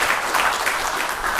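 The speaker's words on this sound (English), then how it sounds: "have a round of applause for Ed and for Mary" Steady applause from a lecture audience, a dense wash of clapping filling the whole short moment without a break.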